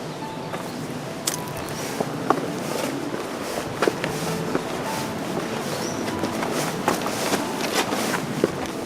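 Footsteps of hikers on a trail through the Pecos Wilderness, a steady run of crunching steps with occasional sharper knocks under constant broadband outdoor noise, with no talk.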